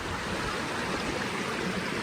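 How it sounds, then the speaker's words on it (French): A river flows in a steady, dense rush of water, close and continuous with no voices. "on est arrivé jusqu'à la rivière"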